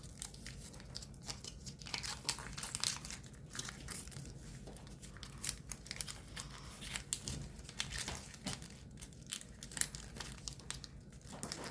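Paper being folded for an origami ninja spinning top, with close, busy crinkling and crisp rustles in quick irregular bursts throughout.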